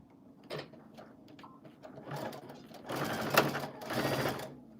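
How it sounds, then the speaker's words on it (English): A sewing machine stitching fabric for a pincushion, short bursts of whirring stitches that start, stop and grow longer and louder toward the end, close by with faint handling noises between runs. "I'm going to sew right on that line."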